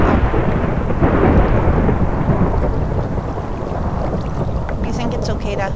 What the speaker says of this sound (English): Oh, lightning strikes. Lightning worries me.